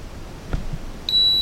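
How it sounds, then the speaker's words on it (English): JJRC H11D FPV camera quadcopter drone giving a single sharp electronic beep as its gyro resets, a clean sustained tone after a faint click, close and alone. "You're going to hear a beep and you're going to see the lights flash"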